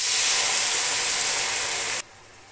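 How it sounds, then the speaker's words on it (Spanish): Mushrooms sautéing in a pan with a splash of soy sauce, a loud steady broadband sizzling hiss that cuts off abruptly after about two seconds. "Echamos nuestras setas y champiñones y vamos a rehogarlo hasta que esté doradito"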